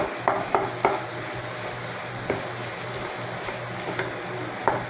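Spaghetti sauce with Reno liver spread fries in a pan with a steady close sizzle, while a spoon stirs it, scraping and tapping against the pan at irregular intervals.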